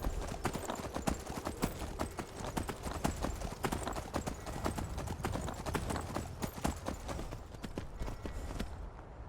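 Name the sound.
horse hooves galloping in Skyrim video game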